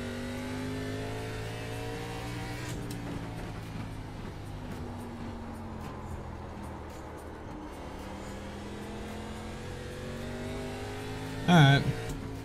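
A simulated race car engine runs laps on an oval in iRacing, holding a steady droning tone with gradual pitch sweeps as it shifts and accelerates, fairly close and sustained, with a short sharp burst near the end; a voice is audible faintly at times.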